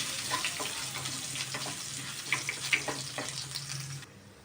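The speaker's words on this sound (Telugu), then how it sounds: "సన్నగా కట్ చేసుకున్న వెల్లుల్లి, సన్నగా కట్ చేసుకున్న అల్లము ఇవి రెండు బాగా వేయించుకోవాలి." Finely chopped garlic and ginger fry in hot oil in a pan. The sizzle is close and steady, with scattered pops and light stirring, and it drops away abruptly at the end.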